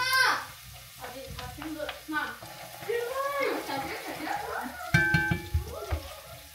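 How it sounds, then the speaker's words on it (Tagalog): Onion sautéing in a home kitchen pan, a steady sizzle and occasional stirring scrapes throughout, with people and children talking over it in a busy household. "And nilagay ko na yung sibuyas. Gisa-gisa lang naman to."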